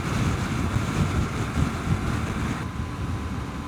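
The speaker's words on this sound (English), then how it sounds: "Yeah, the wind." Wind buffeting the microphone while riding a 2023 Yamaha MT-09 fitted with an Akrapovic full-system exhaust, a loud continuous rushing roar with low rumble that eases slightly near the end, no talk.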